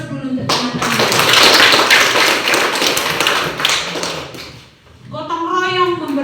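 Students in a classroom applaud their classmates, with loud, dense clapping that swells and then fades out partway through, after which a voice speaks.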